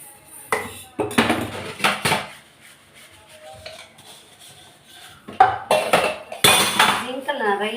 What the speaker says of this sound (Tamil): இப்போ நான் ஜிங்கில் இருக்க பாத்திரம் மட்டும்தான் வாஷ் பண்ணுறேன்.